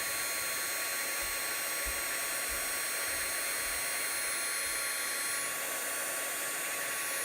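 A hot heat embossing tool blows steadily over glitter embossing powder on a Valentine's card with vellum details, giving a continuous, close, hair-dryer-like whir with no talking.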